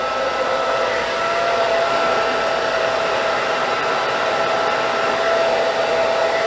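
A hair dryer blows steadily while styling an A-line haircut, producing a continuous close whooshing roar with a faint whine, holding even from start to finish without talk.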